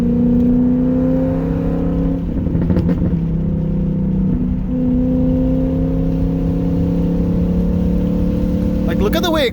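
A BMW E39 540i with a V8 engine drones steadily while driving, its pitch rising slightly as it accelerates, close and constant throughout with a few brief clatters over the top.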